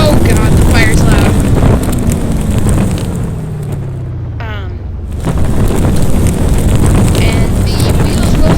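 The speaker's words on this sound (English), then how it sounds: "And oh god, the fire's loud." A burning car roars in the driving game BeamNG Drive, a loud continuous wind-like rush of fire that dips briefly midway before swelling again. A low engine tone slides downward underneath.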